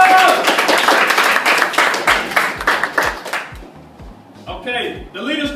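Middle school audience in a presentation crowd clapping together, a dense steady burst of many hands close by that thins out and fades near the end while voices talk over it.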